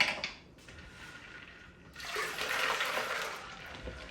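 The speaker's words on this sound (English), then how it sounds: "I got hot water. I got my sugar here, and now I'm just gonna pour this in." Hot water is poured from a kettle onto sugar for spearmint tea, a faint trickle at first that swells into a fuller, steady splashing pour for the last couple of seconds.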